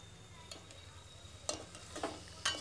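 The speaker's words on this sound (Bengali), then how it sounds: "এই যে অনেক সময় বসে কষিয়ে নিয়েছি" Spiced fish head and vegetables sautéing in a pan, a quiet low sizzle broken by a few short scraping strokes of stirring, close and faint.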